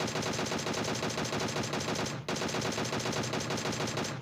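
Rapid automatic gunfire from the mobile battle royale game PUBG Mobile fills the clip, loud and continuous with a dense rattling rhythm and one brief break midway, with no talk.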